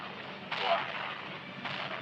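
Two bursts of explosion in Sakura School Simulator, a loud booming blast followed by a second, shorter one over steady game background noise.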